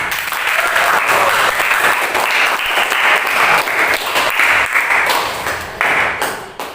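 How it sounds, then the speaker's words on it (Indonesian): A classroom of students claps together during an Islamic studies lesson, loud and close with individual sharp claps standing out in the dense patter before it tapers off. "tepuk tangan"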